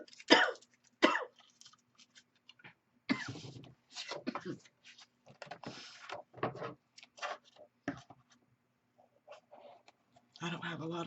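Several sharp coughs, a pair near the start and another later on, breaking up stretches of someone speaking close by.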